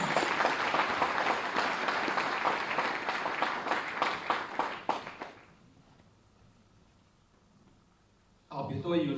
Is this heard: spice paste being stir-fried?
no